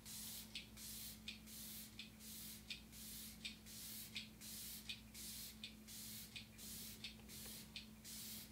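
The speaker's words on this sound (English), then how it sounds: "To melt everything together, I'm using my Glow Recipe Watermelon Mist." Repeated short spritzes of Glow Recipe Watermelon Mist, a facial setting spray misted over freshly applied makeup, about a dozen even bursts in steady rhythm, close and clear against a low background hum.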